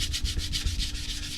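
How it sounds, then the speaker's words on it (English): A miniature figure base is sanded to add grip, giving a steady, rhythmic scratchy rubbing of quick regular strokes, close and fairly quiet, with no voices. "I'm just sanding this to add grip."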